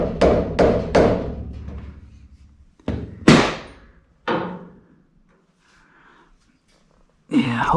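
Hammer tapping an upper control arm bolt down during an independent rear suspension install on a Cobra Daytona build: sharp metallic knocks, three quick ones, then a pause and three more spaced blows, close and loud with some ringing in a workshop.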